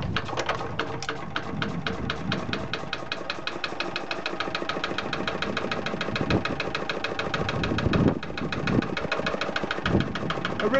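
Lister LR diesel stationary engine, just pulled from a barn and hand-cranked to start, runs steadily with a fast, even knocking beat, close and continuous throughout.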